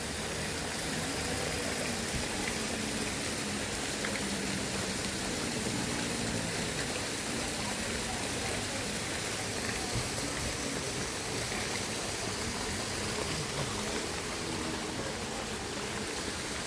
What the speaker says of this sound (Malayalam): മഴ ചാറുന്നുണ്ട്, പക്ഷെ പൂർണ്ണമായിട്ട് പോയിട്ടില്ല. വെള്ളത്തിൻ്റെ ഒഴുക്ക് കൂടി.